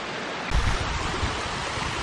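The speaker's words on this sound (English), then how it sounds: "I'm up top the waterfall here" A waterfall in rocky bedrock terrain, heard from the top: steady broadband rushing water with a low rumble, moderately loud and continuous, with a brief gust of wind noise near the start and no talk.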